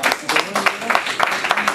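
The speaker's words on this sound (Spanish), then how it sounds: "denle un aplauso al Señor" A church congregation claps in unison with an even, quick rhythm. The loud, close claps are mixed with a few voices.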